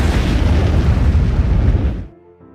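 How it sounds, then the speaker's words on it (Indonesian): A huge explosion as a mine being moved onto a car detonates in a WWII war film: one loud, deep booming blast that rumbles for about two seconds, then cuts off abruptly into near silence. "terjadi ledakan yang begitu besar."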